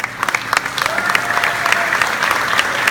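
Audience applause, a dense burst of clapping with sharp individual claps standing out, steady and close for about three seconds.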